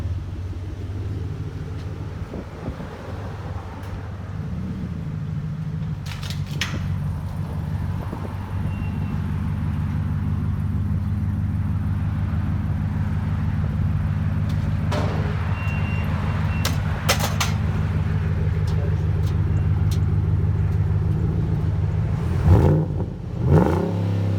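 A 2012 Ford Raptor SVT with a 6.2L engine and Roush exhaust rumbles steadily close by, its low throaty drone building slightly over time with a few sharp bursts near the end.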